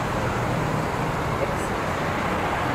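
Taxi driving through city traffic in Chiang Mai, a steady broadband rumble of engine and road noise that stays constant and close throughout, with no clear breaks.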